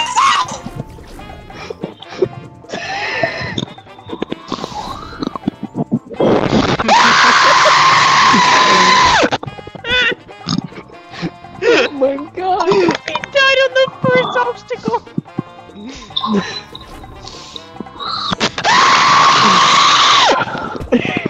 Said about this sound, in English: Like a soundboard full of deep screams as he keeps going.